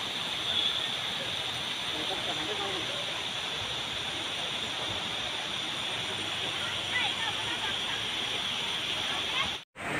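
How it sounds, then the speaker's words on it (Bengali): Turga Falls waterfall, a continuous broadband rush of falling water heard steadily at moderate level with faint background sounds, ending with a brief dropout. "টুরগা ফলসের প্রথম ভিউ।"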